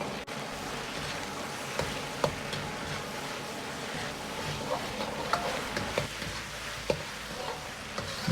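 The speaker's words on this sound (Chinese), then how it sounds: "牛肉也要稍微多煸炒下，炒出牛肉里边多余的水分，炒匀酱汁" Beef stir-fried in sauce in a wok, heard as a steady wash of sizzling with occasional sharp ticks and scrapes from tossing, moderately close and fairly quiet throughout.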